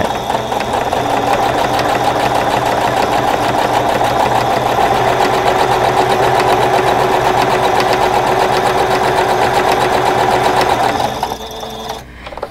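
A sewing machine runs continuously while stitching a cloth face mask at a regular 2.5 stitch length, a loud, even, rapid whirring that stops abruptly near the end.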